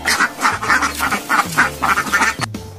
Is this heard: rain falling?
no